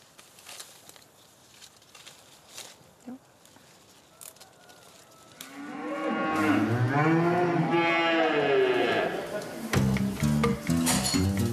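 Montbéliarde dairy cows on a small farm in the Val de Travers, Switzerland, with one long, loud, close moo rising and falling, followed by a shorter second call, after quiet farmyard clatter and faint talk.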